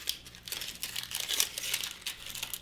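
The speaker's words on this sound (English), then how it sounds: "We're going to peel the skin off of the onion." Dry onion skin is peeled by hand in a kitchen while making a lentil and vegetable stew. Close, continuous crinkly rustling and crackling runs throughout, with no talk.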